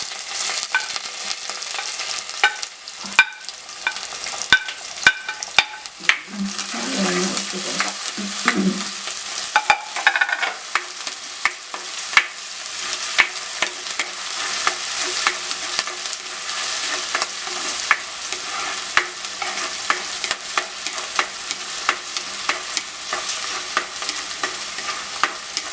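Ginger and garlic fry in a pan of spluttered mustard seeds for a simple chicken curry, a long, steady sizzle with repeated stirring scrapes and clicks, close and without talk.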